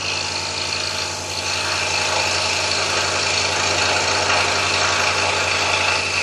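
A scroll saw cutting a curved piece of wood, giving a loud, continuous buzzing whir with a steady vibrating drone close by throughout.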